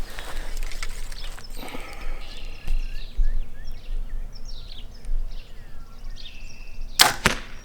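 An arrow tipped with a QAD Exodus 100-grain broadhead is loosed from a bow, ending in a sharp, loud impact near the close, with outdoor birdsong chirping throughout.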